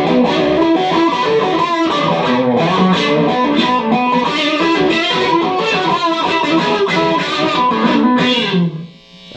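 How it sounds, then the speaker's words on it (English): Electric guitar played through a DANO-WAH DW-1 wah pedal with distortion, a loud, continuous run of sweeping, vocal-like wah chords and notes that fills the whole stretch, cutting off near the end. "Distortion with the wah pedal."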